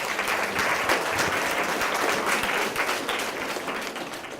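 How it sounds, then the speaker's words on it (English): An audience at a Hamilton Day gathering applauds in a sustained, loud wash of many hands clapping that holds steady for several seconds and eases off slightly at the end. "give yourselves a hand clap of praise for being here today"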